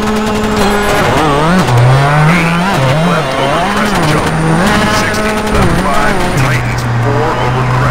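A rally car engine in Colin McRae Dirt screams loudly, its pitch rising and falling through rapid gear changes as it races, with tyre noise underneath and no pauses.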